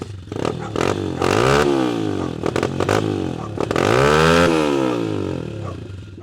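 A kick-started motorcycle engine idles low and uneven nearby, its rumble swelling and sagging in two long revving surges with rattling clatter between them.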